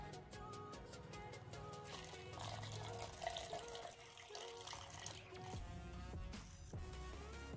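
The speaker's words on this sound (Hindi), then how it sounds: "अभी हम इसमें पानी मिलाएंगे।" Water pours from a tap or container into cow dung being mixed for a biogas plant, a continuous splashing, gurgling stream with a rising tone as the vessel fills, fairly close.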